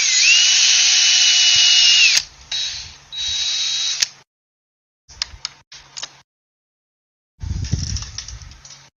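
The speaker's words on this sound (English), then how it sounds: "let's drill it out." A power drill whirs steadily at high speed for a couple of seconds, then runs in shorter bursts broken by silence and a few mechanical clicks.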